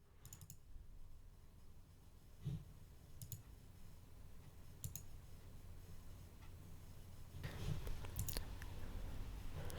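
Computer mouse clicks sound at a desk while Microsoft Word is being set up on a PC: a few sharp, faint clicks spaced several seconds apart, with a brief cluster near the end over quiet room noise.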